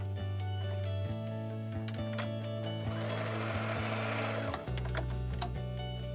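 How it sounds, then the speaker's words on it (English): A sewing machine runs steadily while stitching a blue binding strip onto a flange strip lengthways for a quilt's specialty binding, a continuous mechanical hum with brief pauses and speed changes, then a short stop near the end. "going to sew these two together all the way lengthways"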